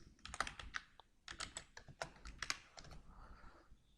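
Rapid bursts of keystrokes on a computer keyboard as names are typed into a document, irregular clusters of close clicks with short pauses between them, no talking.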